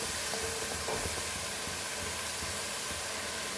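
Masala frying in a pan for a Goan clam pulao gives a loud, continuous sizzling hiss with a few faint clinks of stirring, steady from start to finish.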